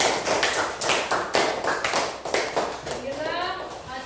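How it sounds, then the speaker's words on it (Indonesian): A classroom of students claps for a group after a religious studies lesson presentation, a dense burst of many hands fading out, followed by a voice speaking. "Oke, tepuk tangan dulu untuk kelompok 1."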